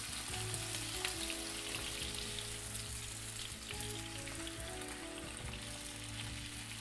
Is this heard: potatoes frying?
yes